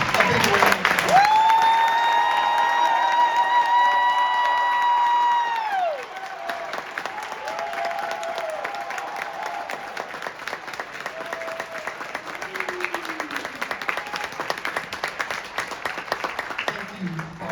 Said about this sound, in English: he needs a big round of applause.